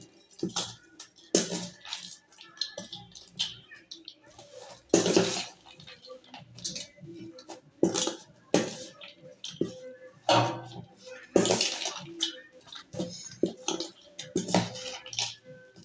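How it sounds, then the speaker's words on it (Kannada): Kosambari salad ingredients are mixed in a bowl with a spoon, giving repeated clinks, scrapes and soft wet squishes in irregular bursts, close and fairly quiet. "ನಾನು ಒಂದ್ಸಾರಿ ಎಲ್ಲ ಮಿಕ್ಸ್ ಮಾಡ್ತಾಯಿದ್ದೀನಿ"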